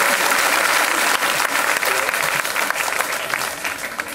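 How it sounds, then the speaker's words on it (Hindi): Loud, dense applause from a crowd at a political party gathering welcoming a returning member, sustained clapping throughout without a break. "एक बार ज़ोरदार तालियों के साथ उनका पार्टी में स्वागत किया जाए"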